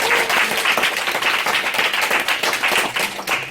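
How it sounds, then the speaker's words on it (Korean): An audience at a lecture breaks into loud, sustained applause, dense clapping that fills the whole stretch without a break. "박수"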